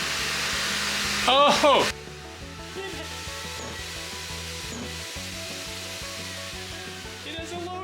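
A SurfPrep POV-8 shop vacuum runs as a steady motor whine, loud at first and then dropping to a quieter hum on its low setting, with clicks and handling knocks and a brief exclamation from a person.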